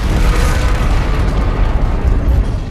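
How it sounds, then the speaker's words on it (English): A loud, continuous roaring rumble of explosions in Call of Duty: Infinite Warfare, deep booms blending into a sustained crackling wash without pause. "The explosions in this game are quite impressive."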